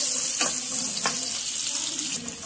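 Food frying in hot grease in a pot, with bread soaked in egg: continuous bright crackling sizzle with a couple of sharper pops, close and steady, with no talk.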